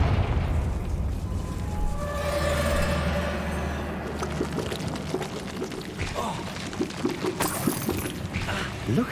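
A Confringo blasting spell goes off in Hogwarts Legacy, a loud booming burst with a rushing, crackling tail that fades into scattered pops and debris, and no voices are heard.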